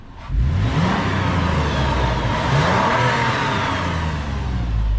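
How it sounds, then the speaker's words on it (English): A Toyota 4Runner engine revs up and holds a steady, loud mid-pitched roar, heard close with no talking over it. "You can hear my engine."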